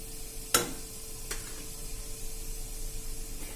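A pinch of asafoetida hits hot oil for a Kathiyawadi guar curry, giving a sharp burst of sizzle, then a second smaller crackle, and a quiet steady hiss of frying after that.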